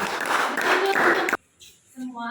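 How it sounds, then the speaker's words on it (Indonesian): Students in a classroom applaud a group of classmates with a dense burst of clapping that stops abruptly, after which a voice speaks. "Oke, tepuk tangan dulu untuk kelompok"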